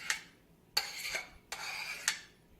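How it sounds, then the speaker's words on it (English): A metal fork scrapes and clinks against a dish as food is stirred and fluffed, four short close strokes in quick succession, each a bright scratchy clatter. "I'm going to stir this up a little bit."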